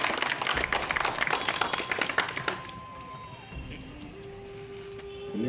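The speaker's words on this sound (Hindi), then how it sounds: "सभी एक साथ जोरदार तालियां बजाएं।" An audience at a Republic Day event claps loudly and densely for about two and a half seconds, then the applause fades out into quieter background noise with a steady hum.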